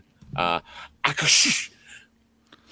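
A person sneezes once loudly and close by, with a short vocal catch before it, then another voice speaks briefly.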